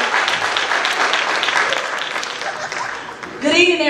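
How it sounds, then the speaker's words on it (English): Sustained applause from a crowd at a high school band and choir holiday concert, dense and steady for several seconds, then fading as a voice begins speaking at the end. "Clap it up for them."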